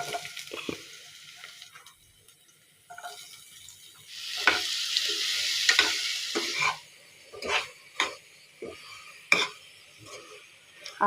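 Bitter gourd curry fries and sizzles in a pan with turmeric, chilli, coriander powder and tamarind paste, a broad hiss swelling in the middle while a spoon scrapes and stirs in sharp intermittent strokes, close and fairly quiet.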